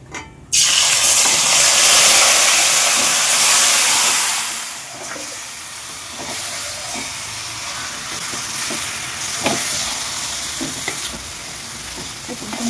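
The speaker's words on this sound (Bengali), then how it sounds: "সেই ম্যারিনেট করা চিকেনটা কড়ার মধ্যে দিয়ে দেবো।" Marinated chicken dropped into hot oil in a wok erupts in a loud hissing sizzle that eases after a few seconds into a steady frying crackle with occasional stirring scrapes.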